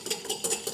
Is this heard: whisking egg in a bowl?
yes